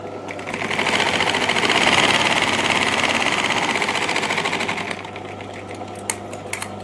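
A sewing machine stitches blouse lining in one continuous fast mechanical whirr and clatter that runs for several seconds, then stops, leaving a few small clicks and taps.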